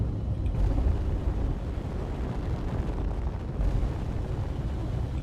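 Hydrogen thrusters firing on a craft in Space Engineers give a continuous deep roaring rumble, loud and steady throughout, with a brief dip and a surge near the start and again around mid-clip.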